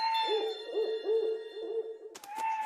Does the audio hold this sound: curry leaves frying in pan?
no